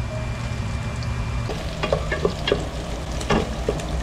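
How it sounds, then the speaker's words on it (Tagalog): Garlic and onion sauté in a pan with a steady low sizzle, while a utensil stirs and scrapes in occasional sharp clicks, close and moderately loud, with no voices. "Ginisa ko na yung bawang at sibuyas"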